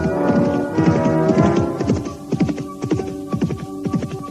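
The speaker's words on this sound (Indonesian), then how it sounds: "Dengan mengendarai kuda, Dewi Jampi bersama-sama dengan Anting Wulan" Horses being ridden clip-clop in a quick, uneven rhythm of close hoofbeats, layered with a low droning hum throughout.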